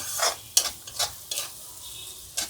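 Egg curry masala being fried and stirred in mustard oil in an iron kadai: soft sizzling under repeated scraping strokes of a spoon against the pan, about five distinct stirs, close and without speech.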